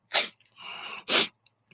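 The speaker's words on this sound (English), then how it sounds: "I have to sneeze, I think." A single sharp sneeze from an adult man, with a breathy inhale building up beforehand and a loud explosive burst, alone in a quiet room.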